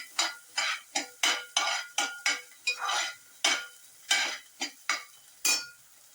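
Boiled peas and sweetcorn frying in butter in a pan, stirred with about a dozen sharp, rhythmic scrapes and clinks of a utensil against the metal, close and clear with a faint sizzle beneath and no talking.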